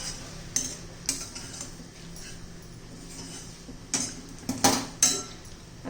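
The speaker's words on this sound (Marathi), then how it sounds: "एक वाटी खोबरं अर्धी वाटी दूध पावडर छान असं हलवून घ्यायचे व्यवस्थित" A spoon scrapes and taps in a pan while dry grated coconut and milk powder are stirred together for chocolate modak, giving a few sharp, spaced clicks over a quiet background.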